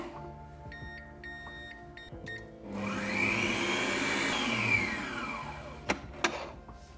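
Stand mixer whipping 250 grams of lactose-free cream, a steady loud motor whir with a churning hiss that holds for several seconds, then two sharp knocks near the end.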